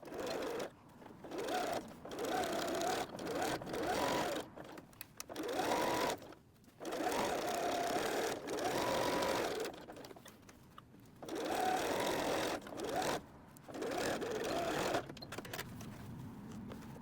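A sewing machine stitches around three sides of a messenger bag pocket, whirring in several steady bursts of a few seconds each, separated by short pauses as the fabric is turned, close and clear.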